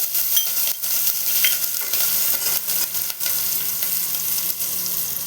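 Four chopped green chillies hit hot oil in a pan while cooking cheese aloo bonda, giving a loud, steady close-up sizzle with repeated scraping strokes of a spoon stirring through it and no voices.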